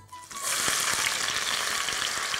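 Onion pieces hit hot oil in a pan for a mutton dish, bursting into a loud, steady, close-up sizzle that continues unbroken after a brief quiet start.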